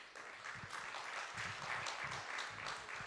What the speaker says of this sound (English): so a loud round of applause